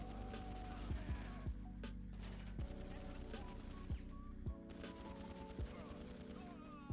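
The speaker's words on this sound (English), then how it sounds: "these guys have the mounted machine gun on top." Vehicle-mounted machine gun fire in GTA Online, sharp bursts of shots popping out over a steady engine hum and dense game noise, repeating every second or so at close range.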